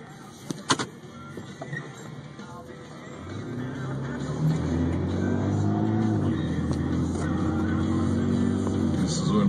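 A car cruising through a residential neighborhood, low engine hum and road rumble building after a few quiet seconds with some faint clicks, steady and close.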